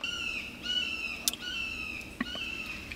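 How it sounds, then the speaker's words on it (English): Newly hatched hawks calling outdoors, high thin drawn-out whistling cries repeated several times at a moderate distance, with a couple of faint clicks. "We have a newly hatched hawks flying around. If you hear that on my video, that's what that's all about."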